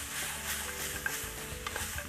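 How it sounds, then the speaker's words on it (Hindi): Baby corn stir-fried in a pan with chili sauce and soy sauce sizzles steadily while a utensil scrapes and stirs close by, with a couple of sharp clinks. "ये जो बेबी कॉर्न है, अब बेबी कॉर्न इसके अंदर फ्राई किए हुए थोड़े सॉफ्ट हो चुके हैं।"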